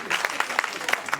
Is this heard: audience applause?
yes